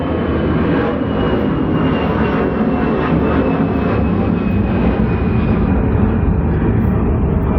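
A fixed-wing airplane passes low overhead near a runway, its engine roar loud and steady throughout with a faint whine on top, no talk.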